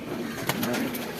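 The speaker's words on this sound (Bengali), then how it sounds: "এটি নর কবুতর।" A male pigeon coos nearby in a low, throaty, warbling tone, with a brief tap or rustle partway through.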